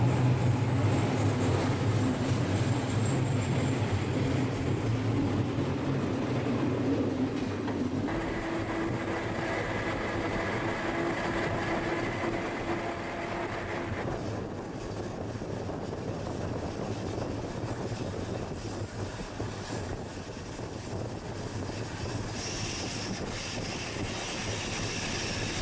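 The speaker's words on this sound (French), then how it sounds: "croisement avec un train de déchets tracté par l'ABE 44642, ancienne locomotive des chemins de fer rétiques" A freight train of waste wagons passes close by, hauled by a former Rhaetian Railway locomotive near Glovelier, with a continuous loud rolling rumble and wheel clatter that shifts in tone as the wagons go by.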